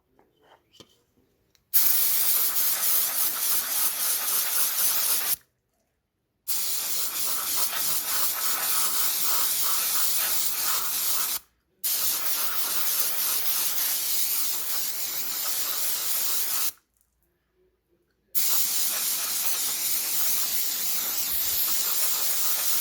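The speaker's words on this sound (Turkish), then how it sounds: "Biz şimdi balata spreyiyle bunu güzelce bir temizleyeceğiz." Brake cleaner sprays onto a car's MAF sensor in four long, loud, steady hissing bursts close by, with short silent pauses between them.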